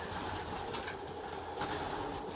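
Pigeons coo softly inside a loft, low murmuring calls under a steady faint background hum, with no one speaking.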